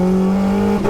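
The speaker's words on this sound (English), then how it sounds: "Bit of a misfire, but we're back on it" A turbocharged 1-litre Nissan Micra engine drones loud and close under acceleration, holding a steady pitch before a brief stutter near the end.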